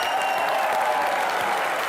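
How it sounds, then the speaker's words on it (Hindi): A television comedy show audience claps loudly and steadily, a dense burst of applause filling the whole moment with no speech over it. "एक बार और बोमर ईरानी साहब के लिए जोरदार तालियां।"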